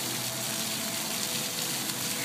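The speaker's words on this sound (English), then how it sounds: "With the waterfall." A waterfall rushes steadily nearby, a continuous broadband hiss and gush that stays even and fairly loud throughout, with no voices over it.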